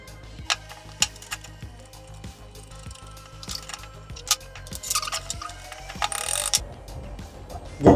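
Antique 1800s knife sharpening tool being put back together during restoration, with repeated small metallic clicks, ratcheting taps and light clatter of parts, close and moderately loud, no talking.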